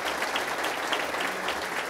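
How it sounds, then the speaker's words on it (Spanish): Steady, dense applause from a church congregation after a sermon by William Soto Santiago, many hands clapping together at even volume throughout. "Yo creo que él se merece un fuerte aplauso."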